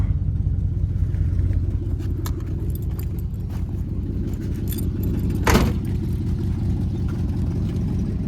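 A bone-stock 1971 AMC Matador engine with over 100,000 worn miles idles steadily after a cold start at about 8 degrees, a continuous low rumble close by, with keys jangling and a brief sharp burst midway.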